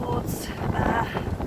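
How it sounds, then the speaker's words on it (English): Wind gusting across the microphone at a caravan site in the Vale of Pickering, a steady low rumbling buffet with some rustle, fairly loud and close. "it's a bit windy today"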